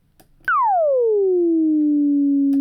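An ES2 synth FM Start tone without pitch bend: one loud note that strikes sharply, sweeps rapidly downward in pitch, then holds a steady sustained tone, alone with no talking.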